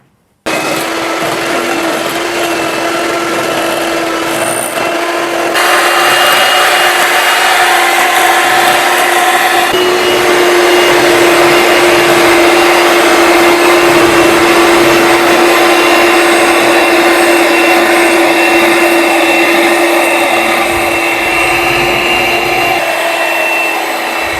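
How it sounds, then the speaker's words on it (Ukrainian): An electric hand mixer whirs steadily while beating soft butter for a custard cream, a continuous motor drone that grows louder partway through and holds with no talking. "Беремо масло, м'ягеньке має бути. Будемо спочатку збивати масло."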